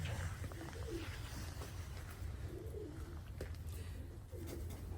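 Soft, low pigeon coos repeat every couple of seconds over a steady background hum, faint and with no talking.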